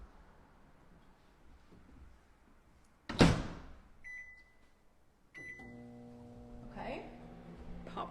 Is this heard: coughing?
no